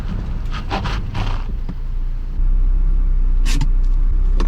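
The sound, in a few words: Acura RSX Type-S car braking hard from speed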